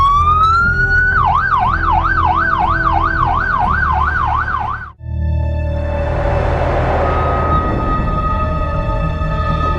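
A loud wailing ambulance siren rises and falls rapidly, then pauses briefly and shifts to a steady two-tone pattern with traffic noise beneath.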